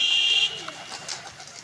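Pigeons kept in an enclosure give soft, low cooing after a brief high whine at the start, the calls faint and close with no speech.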